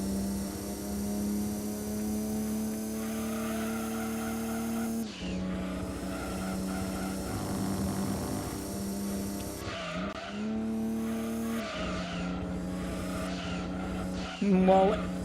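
Race car engines and tyres in Gran Turismo 2 on PS1 during a 300 km endurance race at Grand Valley: a steady, loud droning engine note with shifting pitch, punctuated by tyre squeals and skids, with no talking.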